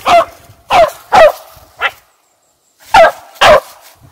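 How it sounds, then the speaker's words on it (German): A dog barks sharply and loudly indoors, close to the microphone, giving six single barks in two bursts separated by a short silence. "müsste er mindestens zweimal bellen"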